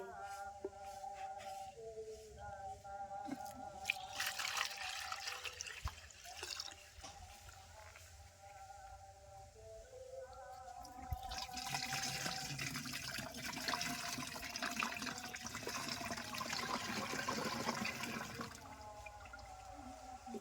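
Water poured from a bucket into a container splashes and gurgles in uneven bursts, with dripping and trickling between pours and a heavier, sustained gush in the second half, fairly faint overall.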